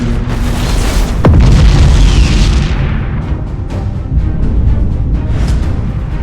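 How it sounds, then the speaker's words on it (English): A defense platform blows up in the space combat game Battlefleet Gothic Armada 2, giving one loud, deep explosion with a rumbling tail that fades into a lingering low roar. "Enemy defense platform destroyed!"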